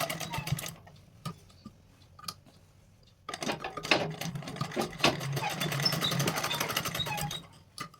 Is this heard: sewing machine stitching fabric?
yes